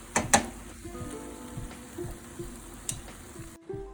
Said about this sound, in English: So now we're gonna incorporate the chicken with the carrots. Let those cook for another about 5-10 more minutes